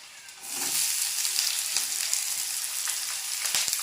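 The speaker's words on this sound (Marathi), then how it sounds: "आता शेंगदाणे परतून घ्यायचे कढीपत्ता टाकला कांदा टाकून घे" Peanuts, curry leaves and onion fry in a pan with a steady, loud sizzle that starts about half a second in and holds to the end, with a few light stirring scrapes and no talk.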